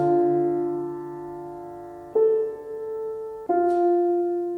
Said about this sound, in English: So the first measure sounds like this.